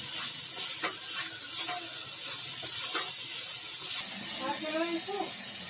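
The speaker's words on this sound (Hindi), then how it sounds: "इसे अच्छी तरह से भून लेंगे" Masala with salt being stirred and fried in a pan, a steady hiss and sizzle with scraping strokes throughout, and a person's voice breaking in near the end.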